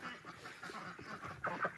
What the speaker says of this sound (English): we're gonna chase the ducks into their duck house